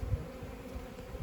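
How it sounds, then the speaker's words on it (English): Honey bees on a hive frame give a close, steady, low buzzing drone that fills the short moment without any talk. "I am holding the frame. Got all these bees."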